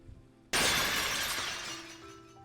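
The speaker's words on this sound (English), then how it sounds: "a member of the Tomodachi family shatters the now cursed jewel that contains Murakumo-san's soul" A cursed jewel shatters in the Senren Banka visual novel, a sudden loud glassy crash that bursts in after a quiet moment and then decays into a long, fading shimmer of scattering shards.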